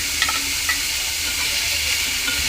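Crushed green chilli paste (thecha) hitting a hot pan with a steady, soft sizzle and light stirring scrapes, close and continuous with no voices, while ridge gourd and moong dal bhaji is cooked.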